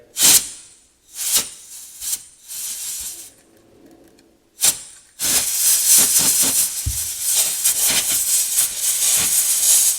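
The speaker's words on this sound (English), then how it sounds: "so just using canned air" Canned air blows dust off a vintage Brown & Bigelow Remembrance Wind Master petrol lighter. Loud, close bursts of hissing spray come first in brief puffs, then settle into one long continuous blast, with no talking.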